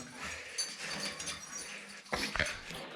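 A dog whimpering inside an abandoned uranium mine, a few soft, brief whines near the end, heard over faint hissing background noise with no talk.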